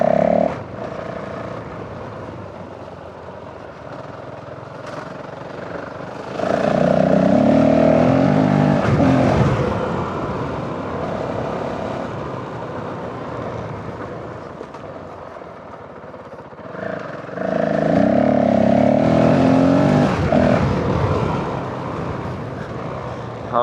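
Honda CRF450L motorcycle engine on ride along rural lanes, a steady droning hum that surges louder twice as the rider opens the throttle, then settles back, with wind rush throughout and no talk.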